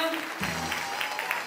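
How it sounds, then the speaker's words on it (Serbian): A crowd claps at an outdoor Sport for All and Peace Run event in Belgrade. The applause is moderately loud and continuous, with a voice briefly audible over it. "Može jedan veliki aplauz za početak"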